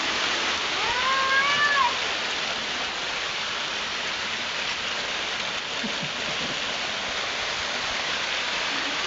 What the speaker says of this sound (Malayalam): മഴ പെയ്ത് എന്നിട്ടും രണ്ടും കൂടെ നിർത്തിയിട്ടില്ല കേട്ടോ